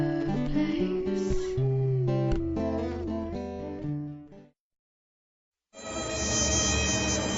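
A mosquito's thin, whining buzz hums close and steady among other tonal sounds, drops briefly to silence, then resumes, with no speech.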